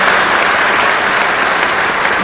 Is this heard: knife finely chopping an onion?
no